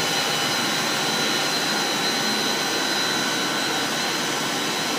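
Old pumps in a pool equipment room with variable frequency drives mounted directly on them, giving a steady, loud broadband whir and hum with a faint high whine, continuous and unchanging, no talking.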